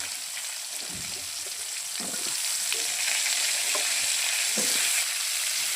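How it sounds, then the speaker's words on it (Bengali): Vegetables sizzle and fry in hot oil previously used to fry rohu fish, cooked over an earthen clay stove, with a steady broad hiss and intermittent stirring scrapes throughout. "এখন মাছ ভাজা তেলে সবজিগুলো ভেজে নেব।"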